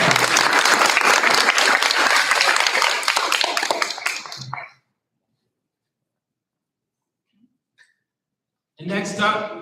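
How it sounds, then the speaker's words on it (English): Applause at a school board meeting: a dense, steady burst of many hands clapping for about four seconds, fading out into near silence, with a voice starting up again at the end. "One last round of applause."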